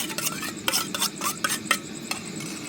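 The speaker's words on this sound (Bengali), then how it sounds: "ফেটিয়ে নেব।" Two eggs with salt and turmeric whisked briskly in a bowl for egg toast, a quick run of close, rhythmic scraping strokes with no voice.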